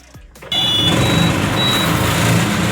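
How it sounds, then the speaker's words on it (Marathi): A Tata truck with about 381,000 km on it cranks briefly, then the diesel engine catches abruptly and settles into a loud, steady idle close by. "गाडी चालू झाली"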